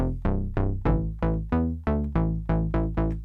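Synthesized speed garage bass with its filter cutoff raised, playing about a dozen punchy plucked notes in a steady rhythm, each bright attack decaying quickly; clean and alone.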